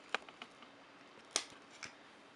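The plastic roller snaps free from a Verifone VX520 paper adapter, giving a few sharp, quiet clicks, with the loudest crisp pop near the middle and a softer click after it.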